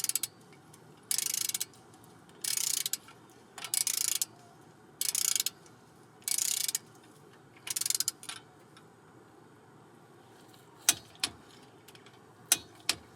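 A ratchet tightens a differential fill plug on a Toyota Tacoma to 48 foot-pounds, sounding as six steady bursts of quick clicking strokes followed by a few sharp separate clicks, close and clear with no talk.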